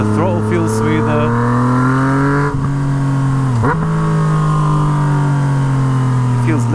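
A Yamaha MT-09 motorcycle with a straight-pipe exhaust roars loudly as the throttle is rolled on, a harsh, rising engine note with brief dips between gears, continuous and close throughout.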